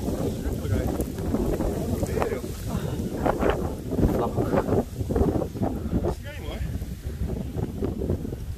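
Strong, gusting wind in a snowstorm buffets the microphone with a steady, loud roar, and voices talk over it in places.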